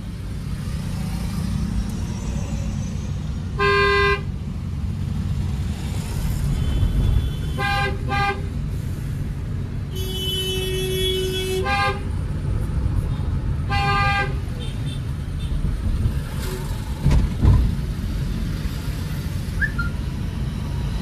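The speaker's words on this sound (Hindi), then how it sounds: "जब किसी के बगल से अगर आप गाड़ी निकालते हो, ओवरटेक करते हो, तो जो ओवरटेक करता है उसको हॉर्न देना" A car horn sounds while overtaking on a divided road during a driving lesson: several short, separate honks rise above the steady hum of the moving car and traffic.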